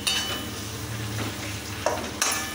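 Potato filling for samosas is stirred in a hot pan, a soft sizzle with a few clear metallic scrapes and clinks of the spoon against the pan, close and alone.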